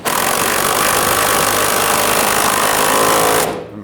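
Power tool running the bolt on a Toyota Tundra fuel tank strap, a loud continuous grinding whir held steadily for over three seconds before cutting off abruptly.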